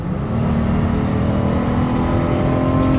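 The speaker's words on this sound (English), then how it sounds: "So I'm giving the van some hard gas" A 2011 Dodge Caravan SE wheelchair van with 231k miles, its engine droning loud and close under hard acceleration, pitch rising gradually and steadily with no talk.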